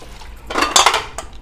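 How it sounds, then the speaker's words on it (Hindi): Dishes being washed in a home kitchen, a brief clatter of pots, plates and cutlery knocking together over faint running water, near and fairly loud. "10 मिनट में मैं चाहती हूँ मेरे बर्तन जो हैं वो धुल जाएं"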